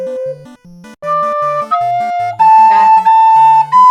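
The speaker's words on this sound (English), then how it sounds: "Ocarinas. You blow in them." An ocarina plays a short run of clear, breathy whistled notes, stepping upward in pitch and growing louder, over a low bouncing bass line, close and without voices.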